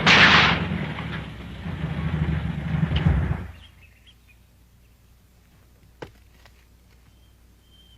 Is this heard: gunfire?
yes